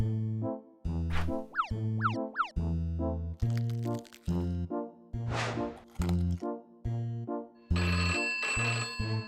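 A telephone in a comedy cartoon scene rings with a bouncy, melodic pattern of repeated tones broken by springy boing-like accents, loud and close, with no speech over it.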